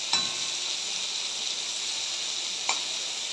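Prawns fry briefly in hot oil over a strong gas flame, producing a thin, steady hiss with two sharp pops, one near the start and one near the end.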